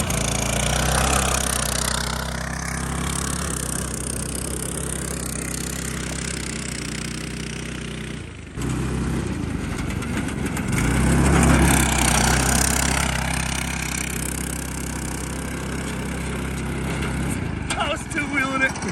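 A custom Yerf Dog four-seater go-kart engine runs steadily and loudly throughout, with a brief dip near the middle before picking back up, and a person talks over it.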